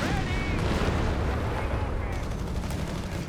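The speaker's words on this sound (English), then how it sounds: "Pack 40 firing after the Greyhound missing" A Pak 40 anti-tank gun fires in Company of Heroes 3 amid sharp, loud gunfire and scattered battle noise, with a caster talking throughout.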